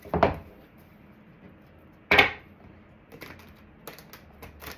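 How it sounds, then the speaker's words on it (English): Two sharp riffling bursts of large cards being shuffled, separated by a pause, followed by a few softer taps and card handling sounds. No talking. "These cards are a bit big. Hard to shuffle for my little hands."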